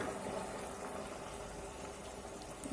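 Steady bubbling and sizzling of tamarind juice simmering in a pan with tempering spices for bitter gourd pickle, a continuous close hiss with a small clink near the end.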